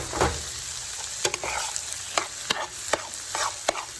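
Rice is sautéed with vegetables for fried rice in a hot pan, a continuous close sizzle under regular spatula scrapes and several sharp knocks against the pan, and no one speaks.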